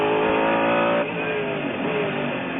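A Mercedes race car at full speed at Le Mans in 1999, heard from onboard as a loud, sustained engine howl that dips after a second as the car shifts, then holds steady.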